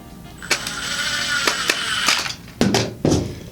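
A gearbox screw being tightened on an MX8 cleaner: loud, close mechanical ratcheting with repeated clicks and a whirring tool-like hum, ending in a few sharper clacks.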